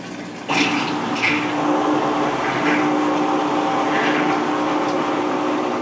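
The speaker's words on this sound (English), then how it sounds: "He's checking to see how good the drain pump is working." The drain pump of a Whirlpool vertical modular top-load washer runs in automatic test mode, draining water with a steady whirring hum and gurgling. It starts abruptly and continues close and fairly loud, with no speech.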